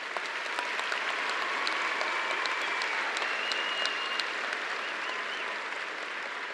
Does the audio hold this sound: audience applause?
yes